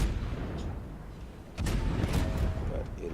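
In a naval warship video game, guns firing HE shells make a heavy, booming blast that is loud and close, rolling over a constant low rumble of engine and sea noise.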